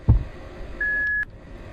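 A message machine beeping in a horror video game, a single steady electronic tone holding for about half a second after a dull thump, over a quiet ambient hum.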